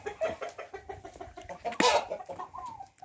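A rooster and young chickens in a farmyard give a run of rhythmic, close clucks, with one louder, harsher call near the middle and a rising cluck toward the end.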